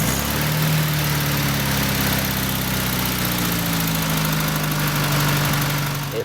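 A 1.6-litre overhead four-cylinder 56-horsepower engine idles steadily at close range, a constant low droning hum with a faint mechanical rattle, no voices.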